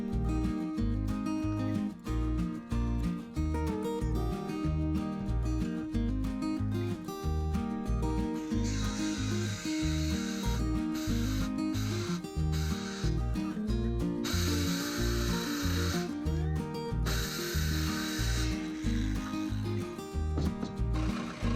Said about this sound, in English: Use a scroll saw or a hand jig to cut out the pieces